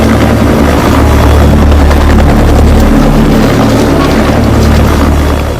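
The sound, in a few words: helicopter transporting fossil rock blocks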